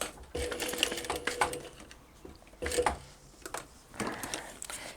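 A sewing machine stitches down either side of a credit card pocket lining for a cross body bag, running in short bursts with pauses between.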